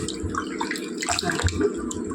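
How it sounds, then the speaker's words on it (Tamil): Water splashes and trickles as freshly cut fish is washed with turmeric and salt, a soft, close, continuous running and sloshing sound. "மீன் நல்லா வாஷ் பண்ணி நல்லா மஞ்சளும் உப்பும் போட்டு நல்லா வாஷ் பண்ணிக்கலாம்."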